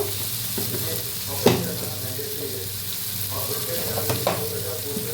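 Spices frying in a pan, with a steady low sizzle and a few sharp scrapes of stirring, at moderate closeness and without talk.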